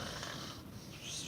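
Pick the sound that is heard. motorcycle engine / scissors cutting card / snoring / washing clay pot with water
snoring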